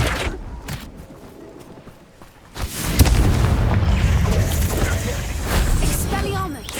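A Flipendo spell impact in Hogwarts Legacy lands as a sudden loud booming burst, with a dense rumbling tail that stays heavy and close for several seconds under game noise.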